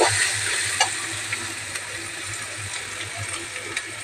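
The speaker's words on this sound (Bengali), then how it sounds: "এবারে ভালো করে এটাকে ভেজে নেব।" Spices for a chicken curry, salted, fry in a pan with a constant low sizzle and faint bubbling, close and even, with a few soft ticks from a utensil and no voices.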